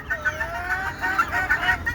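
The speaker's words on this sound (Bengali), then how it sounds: "এই যে দেশি মুরগি নিয়ে কথা বলতে আসলাম আপনাদের সাথে" Desi chickens clucking close by, a busy overlapping run of short clucks and calls over a low background hum.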